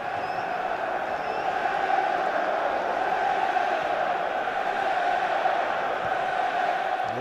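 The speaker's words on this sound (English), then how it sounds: "Hear the crowd, they sense something." Football stadium crowd at a Liverpool Carabao Cup match, a dense, sustained roar of thousands of voices rising in anticipation, continuous and loud without a break.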